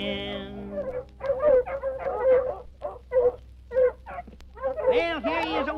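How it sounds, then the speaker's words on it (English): Coonhounds bay and howl on a night coon hunt in a 1977 country recording, with a run of close, drawn-out yelps and wavering howls mixed with voices. "can't we quiet them darn dogs down?"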